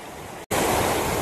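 Surplus water gushes out from Gunderipallam dam as a loud, continuous broadband rush, briefly cut off by a split-second gap before surging back at full strength.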